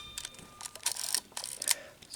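An SLR camera with deteriorating mirror bumper foam fires its shutter several times in quick succession, giving faint, close mechanical clicks and a slightly spraying snap with each release.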